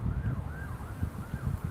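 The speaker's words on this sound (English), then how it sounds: "These sirens just kill me." A wailing emergency vehicle siren sweeps up and down repeatedly at a moderate distance on a Los Angeles street, mixed with wind buffeting the microphone and low rumbling traffic, with no talking.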